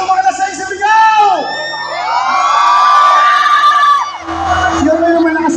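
A live concert crowd at Pop Up Katipunan shouts, whoops and cheers loudly, with sustained high-pitched screams rising and falling close by, then a burst of broader cheering noise at the end.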